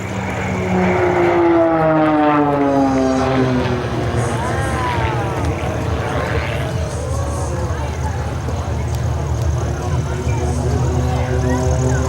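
Aircraft of the Marksman aerobatic team flying close formation at an airshow in Stellenbosch, 2024, a steady engine drone with rising and falling whine passing overhead, loud and continuous, with crowd chatter faintly beneath.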